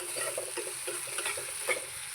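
Maggi noodles frying in oil in a pan with vegetables, giving a faint, steady sizzle broken by soft stirring scrapes and taps.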